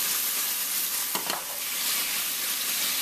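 Zucchini and tofu fry in an oiled pan with a steady, close hiss, broken by one brief louder crackle midway.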